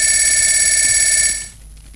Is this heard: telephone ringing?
yes